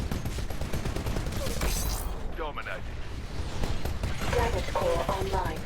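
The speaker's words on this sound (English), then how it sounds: "that weapon he's using is the arc cannon" Arc cannon firing in a Titanfall 1 match, heard amid a dense, constant wash of weapon fire and mechanical game noise, with crackling bursts and whooshing sweeps throughout and a voice speaking briefly.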